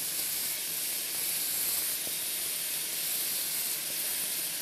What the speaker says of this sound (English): We're searing the meat on all sides.